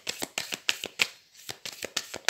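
Tarot cards are shuffled and handled up close in quick, rhythmic bursts of riffling snaps and slaps, with brief pauses between.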